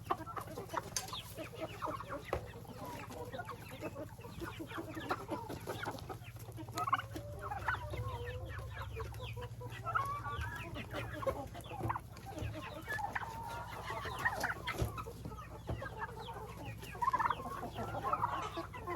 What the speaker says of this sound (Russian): И цыплята, и индюшата все налетели на траву.